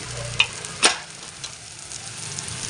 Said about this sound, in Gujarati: આપણે મસાલાને થોડી શેકાવા દઈશું